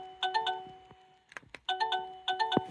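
An AVANTEK wireless doorbell receiver plugged into a wall outlet chimes in two bright, ringing bursts of tones, separated by a short pause with a few faint clicks, close and clear with no talking.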